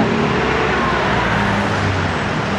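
Road traffic roars steadily from cars on an expressway next to a commercial area. The wash of engine and tire noise is loud, close and constant, with no pauses and no talking.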